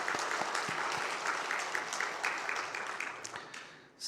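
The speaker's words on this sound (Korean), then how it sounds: "우리 감사의 박수를 한번 좀 드리겠습니다." Congregation applauding at a Wednesday church service, a steady round of many hands clapping for about four seconds that tapers off toward the end.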